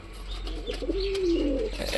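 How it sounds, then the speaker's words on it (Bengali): Pigeons kept as pets coo nearby, a low, rolling call that rises and swells over steady background hiss, with no talking. "এখানে ডাকাডাকি করছে"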